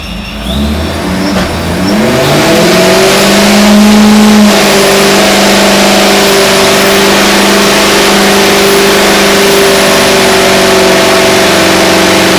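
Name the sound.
supercharged Corvette Z06 engine started and revving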